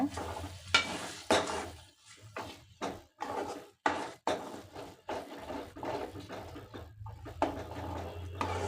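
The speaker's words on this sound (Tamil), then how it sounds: "இப்போ நல்லா மிக்ஸ் பண்ணி விடுங்க" A spatula stirs scrambled egg podimas in a hot pan, producing repeated scraping and clacking strokes in an uneven rhythm over a soft, steady sizzle, close by and fairly quiet.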